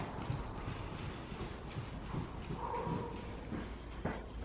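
Horse walking in a riding arena, with soft, steady hoof thuds in an even rhythm at a moderate distance over faint background ambience.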